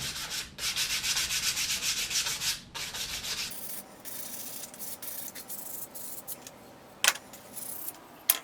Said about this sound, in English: make sure that you sand them well, sand them smooth